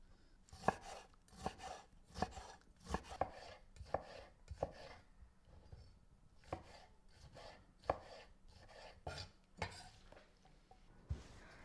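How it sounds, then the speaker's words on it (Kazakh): A knife finely chops a tomato on a cutting board, with sharp, close taps coming in short irregular bursts and small pauses between them. "Начинка үшін 1 помидор қажет, майдалап тураймыз."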